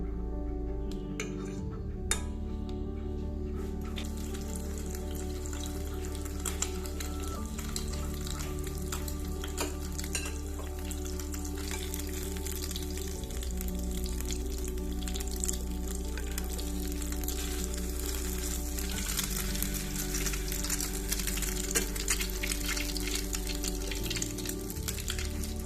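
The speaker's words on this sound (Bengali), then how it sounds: "চুলায় তেল বা বাটার বা ঘি দিয়ে ভেজে নিতে হবে। আমি এখানে ঘি দিয়েছিলাম।" Ghee frying on a stovetop gives a steady, close sizzle with crackling pops that runs unbroken for the whole stretch, over a low background hum.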